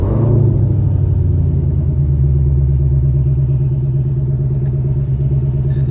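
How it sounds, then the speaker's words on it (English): A Ford Shelby GT500 Mustang's engine running close by, a loud, steady low rumble with a slightly stronger surge at the start, then an even idle throughout with no voices. "I know how to start a car."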